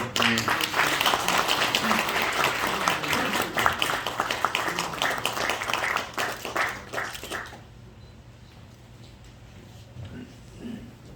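An audience at a Christian federation inauguration ceremony claps loudly for about seven seconds before the applause cuts off into quiet room tone with a low hum.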